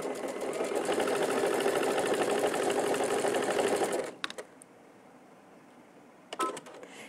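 A sewing machine stitches a quilt seam, running loud and steady with a fast even rhythm for about four seconds, then stopping and leaving a few clicks and light handling sounds.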